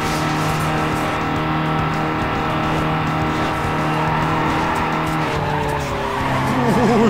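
Mitsubishi Lancer racing in Need for Speed Underground 2, a continuous loud engine drone with tire squeal and skidding running throughout, the pitch shifting near the end.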